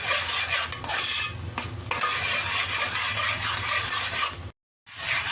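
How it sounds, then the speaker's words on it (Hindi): Besan batter is stirred steadily in a pan while it cooks for khandvi, a continuous scraping, bubbling rasp with a brief dropout near the end and no talking. "ये देखें जी, आपने अच्छी तरह भूनते रहना है"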